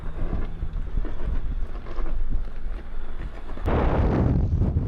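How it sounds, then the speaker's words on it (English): Strong wind on a high mountain pass in the San Juan Mountains gusts against the microphone in uneven, rumbling buffets that swell louder toward the end. "It's a little windy up here."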